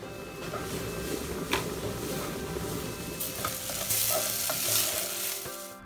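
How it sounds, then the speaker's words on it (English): Chopped onion sautéing in hot olive oil over a medium-low flame, a constant crackling sizzle broken by spoon clinks and scraping stirs against the vessel. "Add the onion and saute for 3 to 4 minutes in medium low flame."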